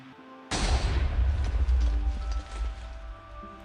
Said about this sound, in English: That is one heck of an explosion.